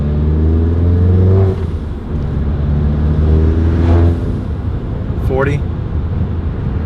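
A VW MK7 GTI drives at about 40 mph, its engine and road noise forming a steady, loud cabin hum that swells and eases slightly, with brief voice sounds over it.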